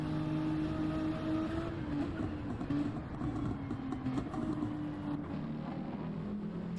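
Mercedes-AMG GT3 race car engine in a Daytona 24-hour racing video game, a steady loud drone with a wavering pitch that holds throughout, with no talk over it.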